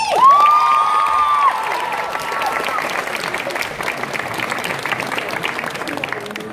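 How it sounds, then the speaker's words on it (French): Audience applause and cheering at a cosplay contest, opening with a loud whistle over voices, then settling into sustained, fairly distant clapping from a large crowd. "Bref, on les applaudit!"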